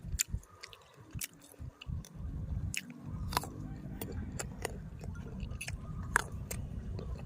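Close-up crunchy chewing, with crisp bites and crackles repeating irregularly over several seconds, quiet but distinct against a still background.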